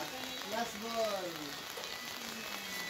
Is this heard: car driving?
no